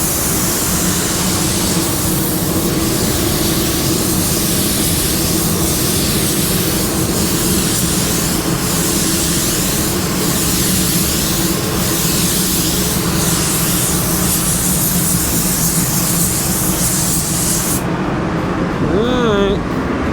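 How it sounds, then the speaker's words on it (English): A spray gun lays down black paint in a continuous, loud, hissing rush that holds steady for a long stretch, then cuts off near the end. "I mean, I could spray black with any gun"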